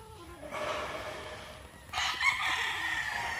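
Two nearby rooster crows, one after the other, with hens clucking around them in a farm breeding area in Carigara, and no talking.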